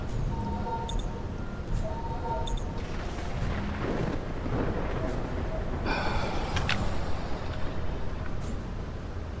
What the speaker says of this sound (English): Electric storms, yeah, they're always the worst ones.